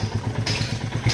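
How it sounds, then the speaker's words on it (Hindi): A motorcycle is pushed inside a house, giving a rhythmic low engine-like thrum with small clatters and a brighter scrape partway through, close and moderately loud. "अब लगाते हैं बाइक को अंदर"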